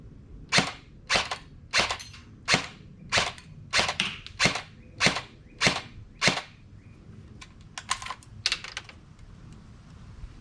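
LCT LC-3 airsoft AEG rifle firing with a double feed fault, a series of about ten sharp snapping shots at a regular rhythm, followed by a few quieter, irregular clicks and rattles, close and with no talk.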